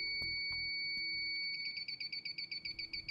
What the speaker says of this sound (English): Start by powering on the leak detector and make sure GAS-Mate is set to high sensitivity